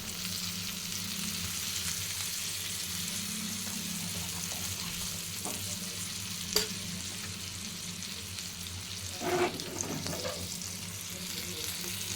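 Bangda fish fries in oil on a low flame, a steady gentle sizzle with a few brief clatters and louder spatters near the end.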